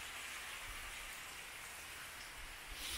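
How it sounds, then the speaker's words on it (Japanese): Steady rain falls near the mountain summit on Izu Oshima, an even, close hiss of drops on surfaces with no voices. "ここね、山頂付近だと思うので、あの雨がね降ってるというか"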